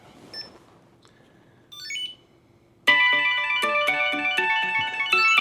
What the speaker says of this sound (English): So when you double press on this twice, it'll make your phone ring.